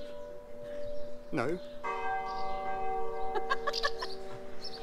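A church bell rings repeatedly outdoors with long, sustained tonal strikes layered over one another. A rooster crows once in the background and a person speaks briefly.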